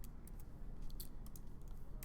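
Rapid keystrokes tap on a computer keyboard as a make command is entered, a quick run of close, light clicks over faint room hiss.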